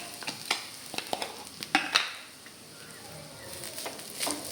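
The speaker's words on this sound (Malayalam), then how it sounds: "ഇതൊന്ന് ഇളക്കി" Grated coconut being stirred in hot ghee in a pan, a few sharp scraping strokes over a soft, steady sizzle, close and fairly quiet with no talking.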